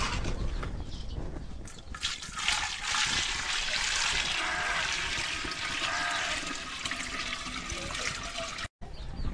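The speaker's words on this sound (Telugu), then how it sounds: "ఈ 10 లీటర్ల ఆవుమూత్రాన్ని ఇందులో పోసుకోవాలక్క." Ten litres of cow urine being poured into a clay pot, a continuous splashing, gurgling stream lasting several seconds, close and steady before a brief drop-out near the end.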